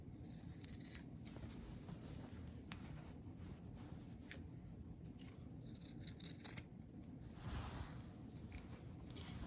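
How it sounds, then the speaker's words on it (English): Scissors snipping the fabric corners of a sewn casserole carrier, a quiet series of short cutting clicks at irregular intervals over a soft background hiss, heard close and with no talking. "I'm just gonna trim out the corners just to round them out to make them not so bulky."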